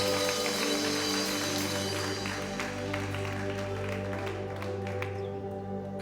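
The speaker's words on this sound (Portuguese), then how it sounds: "uma salva de palmas para Jesus" A church congregation at a Portuguese-language worship service claps, with a steady crackle of applause mixed under sustained instrumental music tones throughout.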